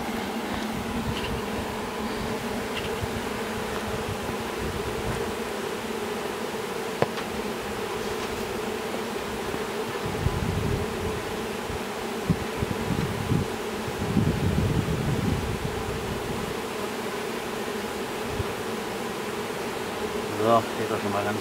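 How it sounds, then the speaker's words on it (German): A honeybee swarm is hived into a box. A dense, continuous buzz of many bees fills the air, close and steady, with light rustling and faint wind noise underneath and no voices. "Die Bienen, die jetzt hier außen rumfliegen, die werden sich nachher, wenn das Volk angekommen ist, wieder beisammeln."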